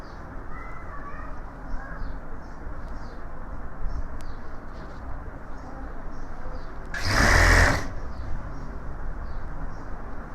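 A sewing machine stitching pieces of suit fabric together gives one short, whirring burst of under a second, heard close against a steady background with faint birds calling.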